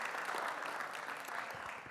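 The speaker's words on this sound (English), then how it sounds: "Can we give a round of applause for Victor and Zion?" Applause from a gala audience for two performers, a steady wash of clapping that fills the whole stretch at moderate level without letting up.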